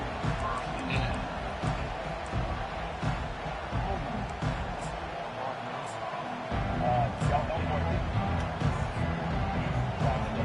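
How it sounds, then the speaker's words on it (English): Loud, steady crowd roar from a packed stadium in a college football video game against Nebraska, a constant dense wash of cheering and noise throughout with a brief dip midway, under commentary. "This crowd bringing an ear-splitting welcome to their visitors."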